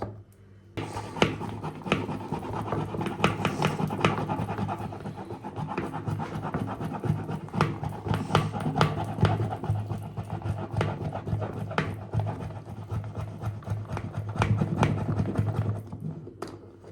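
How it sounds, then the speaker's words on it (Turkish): Instant coffee and hot water whipped into froth in a cup, a continuous rapid scraping and whirring beat that runs steadily and close for the whole stretch. "Şimdi bunu köpürteceğim."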